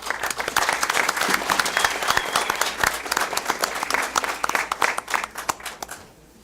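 An audience at a school district board meeting claps for a student, a dense, sustained round of applause from a full room that fades out at the end.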